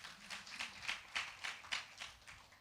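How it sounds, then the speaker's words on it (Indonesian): Church congregation clapping in a rhythmic series of even claps, a steady beat of roughly six to eight strokes at moderate volume in a reverberant hall. "Tepuk tangan dong buat Tuhan."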